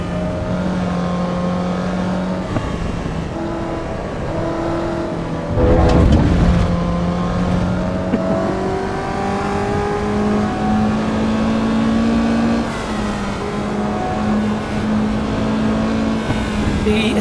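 Mazda MX-5 with a 1600 engine strains up a hill in the Assetto Corsa EVO racing game, its steady engine drone rising gradually in pitch with a louder burst around the middle, constant and close throughout.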